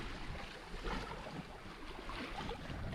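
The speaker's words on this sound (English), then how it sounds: "and just water lapping." Faint, gentle water laps against a sailboat hull at sea with the engine off, a soft irregular wash under light wind with no voices.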